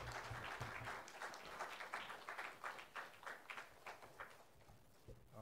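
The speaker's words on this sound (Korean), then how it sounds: "우리 나오실 때 우리 환영의 박수로 우리 함께 환영하도록 하겠습니다." A church congregation claps in welcome for a pastor at a New Year gospel meeting, a faint, quick patter of hands that thins out toward the end with no talking.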